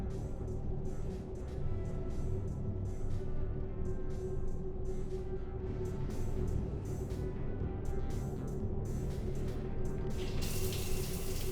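A shower runs steadily in the Mass Effect 3 video game, a continuous hiss of spraying water with a faint steady hum underneath and no voices.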